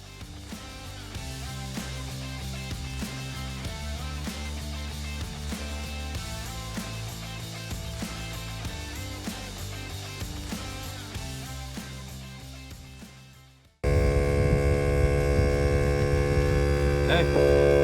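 A cheap portable 12-volt tire inflator pumps up a car tire on a four-wheel-drive trip, making a continuous buzzing motor hum that drops in level, cuts briefly, then returns louder and harsher, with no talking.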